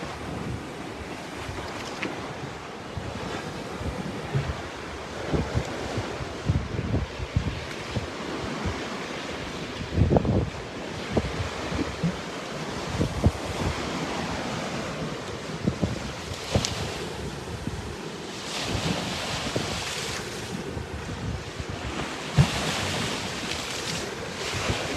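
Ocean waves rolling and washing in under a light breeze, with wind buffeting the microphone in gusts; a continuous wash of surf with no voices.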